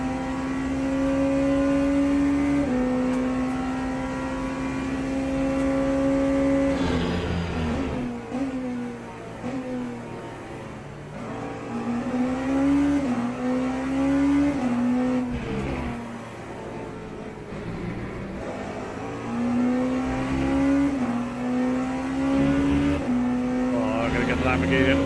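Ferrari and Peugeot race car engines in a racing game on the Qatar track, a steady droning engine tone that climbs and drops in pitch with repeated revving and gear changes, loud and continuous, with a voice talking over it at times.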